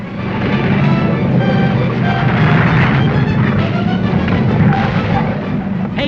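Stock cars bunch up and crash at a corner, a loud, sustained roar of engines with crunching, banging impacts and clattering metal, close and continuous throughout.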